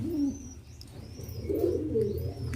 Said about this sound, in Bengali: দেখো মাদি পায়রা, এ আমার সাথেই